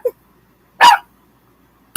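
A dog inside an RV gives one loud, close bark in the middle, with short clipped yips or noises at the start and end, separated by silence.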